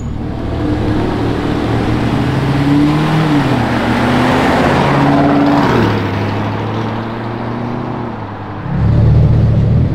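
A Lamborghini V10 drives past, loud and close. Its engine drones and shifts pitch in stepped gear changes, then swells into a louder burst of revving at the end.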